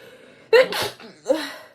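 A sudden, loud sneeze bursts out, followed a moment later by a shorter second burst of breath or voice, close to the listener.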